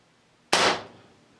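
A single sharp shot from a Crosman 38T .177 air pistol, a sudden loud crack with a short fading tail, alone against quiet background.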